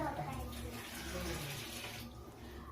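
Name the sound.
pouring a glass of water into banana stem curry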